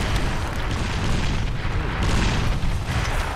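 Rocket explosions boom in the shooter game 50 Cent: Blood on the Sand, dense low rumbling blasts rolling continuously at close range and loud, with bursts overlapping and no clear gaps.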